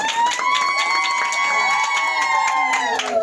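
A crowd at a celebration claps and cheers over sustained tonal music, with steady rhythmic claps running throughout at a loud, even level, and voices mixed in.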